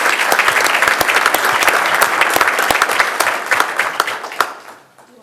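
A room at a Westland city council meeting applauds an elementary school student with brisk, dense hand clapping that stays loud and close for several seconds, then quickly fades out.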